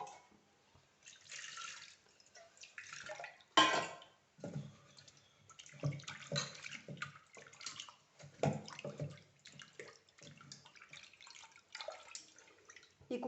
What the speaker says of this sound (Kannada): ಇನ್ನೊಂದು ಸ್ವಲ್ಪ ನೀರು ಹಾಕ್ಕೊಳ್ಳೋಣ.